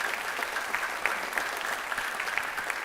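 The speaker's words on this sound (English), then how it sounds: "So, can we give them a round of applause?" Audience applause at a National Honor Society induction ceremony for new inductees, a steady, dense clapping from a crowd that fills the whole stretch without any talking.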